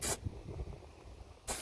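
WD-40 sprayed onto a Toyota Tundra tailgate latch handle: a steady aerosol hiss of about a second and a half, framed by brief louder bursts at the start and the end.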